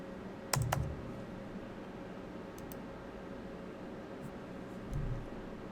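Typing on a computer keyboard, a quick cluster of close key clicks near the start and another few soft taps later, faint over a quiet room hiss.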